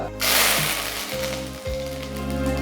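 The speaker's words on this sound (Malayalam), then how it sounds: "കടുക് കൊട്ടിക്കഴിയുമ്പോൾ സ്വല്പം ഉഴുന്നിടണം വേപ്പല" Mustard seeds, urad dal and curry leaves sizzle and crackle in hot oil for a Kerala jackfruit thoran, a steady close frying hiss with no talking.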